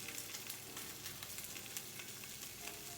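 A salmon portion sears skin side down in a hot pan, giving a steady crackling sizzle with bright spitting pops throughout, fairly quiet and alone.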